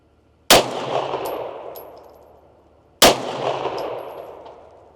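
Two loud, sharp M9A1 pistol shots fired outdoors at a morning shooting range, a few seconds apart, each with a crisp crack followed by a long decaying echo.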